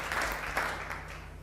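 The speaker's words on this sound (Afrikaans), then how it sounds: "Kom ons gee hom 'n hande klap." A church congregation applauds together in a brief burst of clapping at moderate volume that fades out toward the end.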